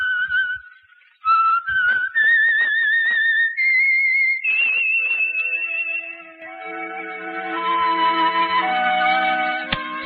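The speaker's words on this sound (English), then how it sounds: "Let that whistle be your signal for the Whistler" A clear whistled tune, the opening signal of the 1950 radio drama The Whistler, a rising melody held alone for several notes, followed by a sustained chord of instruments swelling in.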